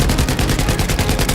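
Machine gun fire in Battlefield V rattles in a rapid, evenly spaced burst, loud and close, with about a dozen shots crackling in quick succession and no talk over it.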